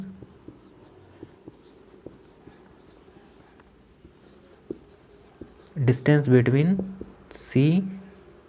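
Pen or chalk scratches out distances during a maths lesson, soft intermittent strokes and taps, followed by a teacher speaking.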